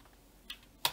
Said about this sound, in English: I'm gonna type out